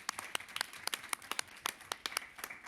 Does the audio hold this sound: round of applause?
yes